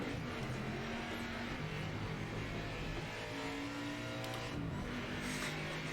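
A Chevy race car in the Project Motor Racing game drones along at steady engine revs, the note shifting with gear changes while other cars' engines mix in, a continuous loud racing roar with no break.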